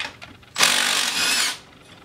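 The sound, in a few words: removing brake caliper bolts on a 1997 Polaris Sportsman ATV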